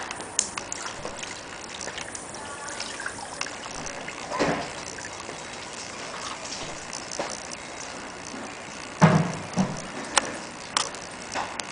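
Water is poured over a coated Mercedes SLK, giving a soft, continuous splashing and trickling wash with a few louder splashes toward the end.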